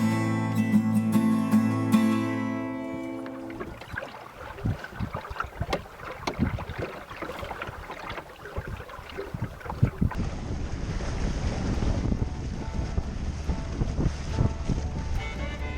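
Wind and water aboard a 16-foot O'Day daysailer on Kentucky Lake, a strong rushing gust and sloshing bluster close to the microphone, following a short stretch of music at the start.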